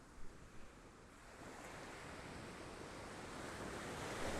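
Sea waves washing onto a beach as a faint, continuous rushing surf that gradually swells louder, with a couple of soft bumps near the start and no voices.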